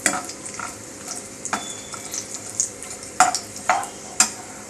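Khichdi ingredients with cashews sautéed in a pan, a close sizzling hiss with frequent sharp scraping stirs and clinks of a spoon against the pan at an uneven rhythm.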